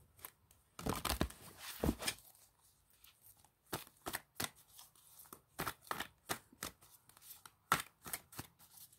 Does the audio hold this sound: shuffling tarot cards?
yes